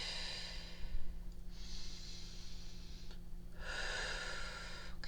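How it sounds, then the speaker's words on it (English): Slow, deep breathing in and out during a calming hand-tracing exercise: two long airy breaths, each a few seconds, close and fairly soft over a faint steady hum, with no talk. "as you're tracing your hand, you're breathing in"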